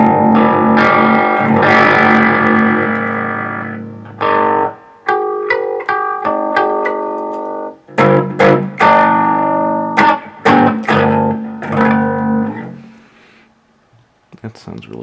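Electric guitar through an Electro Harmonix Stereo Pulsar tremolo set to a square wave: sustained chords chopped into pulsing on-off bursts, then sparser plucked notes and stabs, close and fairly loud, with no talk.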